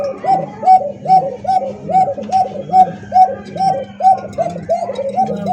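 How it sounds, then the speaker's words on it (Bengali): Pigeons of fancy breeds such as Lahori, Bombay, satin and racer coo close by in a steady repeating rhythm, loud and clear, roughly two calls per second. "তো ডাক তো বহুত ডাকছে ভাই।"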